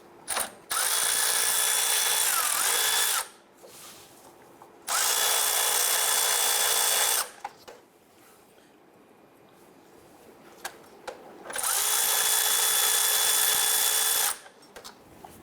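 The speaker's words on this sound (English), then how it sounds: "We're going to use a 17mm socket and we're going to loosen that." A power tool with a 17mm socket loosens the belt tensioner bolt on a 1997-2006 Jeep Wrangler, running in three sustained bursts of about two to three seconds each, separated by quieter pauses with faint clicks.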